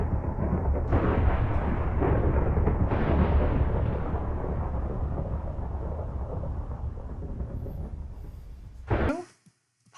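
A Minecraft lightning strike sets off a long, deep rolling thunder rumble that swells loud and close, then slowly fades before cutting off abruptly near the end.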